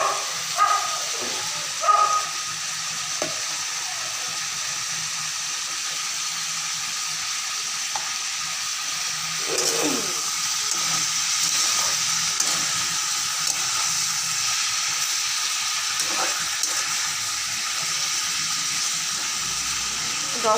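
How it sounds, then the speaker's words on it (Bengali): Lemon-marinated chicken, about 500 g, frying in a pan with a steady close sizzle throughout, a few louder crackles and stirring clatters near the start. "10 মিনিট মতন ভালো করে ভেজে নেব"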